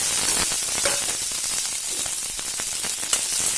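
Tamarind water, onion, tomato and coriander sizzle and fry in hot coconut oil in a pan, a steady close crackling hiss with no voices over it.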